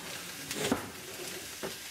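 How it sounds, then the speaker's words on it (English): Red onions sizzle quietly in a hot frying pan, a soft, steady crackle with a couple of faint stirring scrapes. "So I just put the red onions in the pan, the frying pan."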